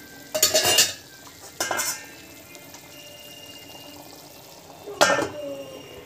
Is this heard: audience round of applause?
no